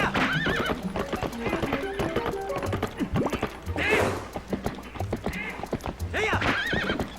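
Horse hooves clip-clop steadily at a gallop with several loud neighs and whinnies in the Zelda: Twilight Princess video game, mixed with game music, combat whacks and crashes.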